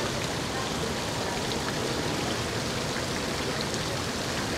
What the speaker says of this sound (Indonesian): Jadi sambil duduk sambil dengerin suara gemericik air.